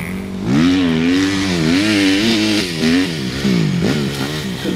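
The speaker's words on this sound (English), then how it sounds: "I just love that whole the sound and the petrol, the two-stroke or whatever bike you're on." A two-stroke dirt motorbike revving hard nearby, its buzzing engine pitch rising and falling in repeated surges, loud and alone.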